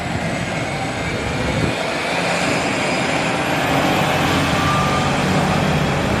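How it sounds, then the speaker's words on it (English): A Seattle bus rapid transit bus idles and moves nearby, giving a loud, steady mechanical drone with a faint high whine layered on top, continuous throughout. "What a strange noise that bus makes."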